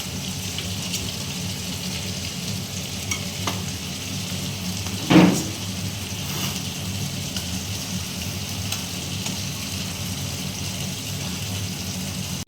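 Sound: chicken tandoori pieces sizzling on a heated roti mesh

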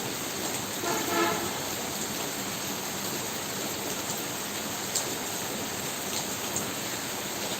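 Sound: heavy rain falling in village

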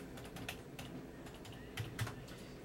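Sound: typing on a computer keyboard

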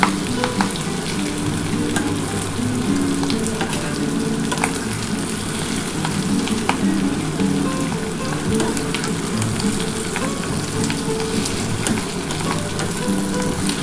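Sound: fish swim bladders popping while frying in oil

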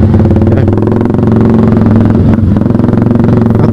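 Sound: motorcycle riding with engine noise

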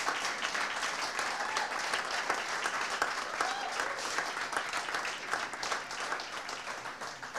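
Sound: audience applause

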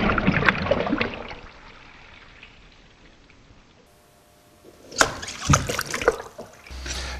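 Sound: tsunami wave crashing in a wave tank demo

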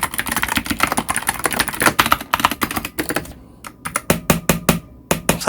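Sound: typing on a wooden mechanical keyboard

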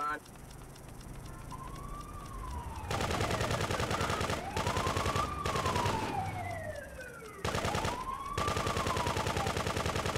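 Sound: machine gun fire in Grand Theft Auto 2 video game

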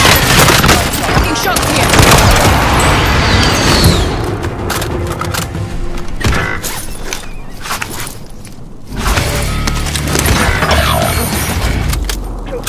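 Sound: precision airstrike explosions in video game Warzone

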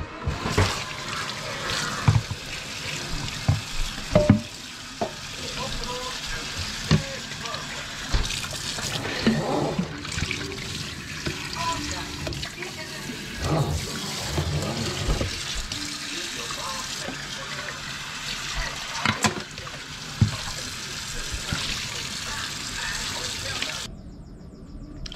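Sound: water running while rinsing out an IK Foam Pro 2 sprayer

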